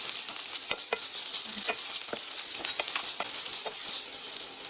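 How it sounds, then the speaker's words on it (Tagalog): Carrot and onion sautéing in a little oil in a pan, a steady close sizzle broken by sharp scraping stir strokes throughout. "Naglagay lamang ako ng konting mantika tapos ginisa ko na yung carrot. Tapos, sinulog ko na din yung sibuyas."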